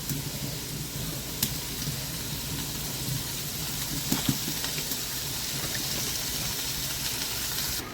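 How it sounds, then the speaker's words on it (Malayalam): Onions sauté in oil in a pot, a steady, even sizzle with a soft crackle running throughout, broken by a few faint clicks and knocks. "ഉള്ളി ഇതാ അടുപ്പത്ത് വെച്ച് കുറച്ച് ഓയിൽ വെച്ച് ഒന്ന് വാട്ടിയെടുക്കാൻ"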